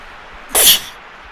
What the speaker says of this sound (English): If you'll excuse me while I sneeze.